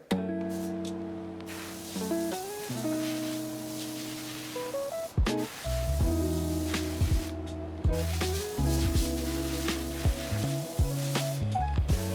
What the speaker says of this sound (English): I'm just gonna go basically blow all the dirt, all the dust off with an air gun